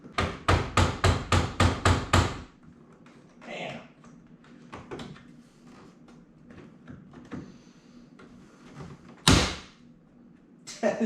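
A fog light on a MK6 VW Jetta SportWagen is forced into its clip, opening with a rapid run of about eight sharp, loud knocks, then quieter scattered taps and one hard bang, with talk in between.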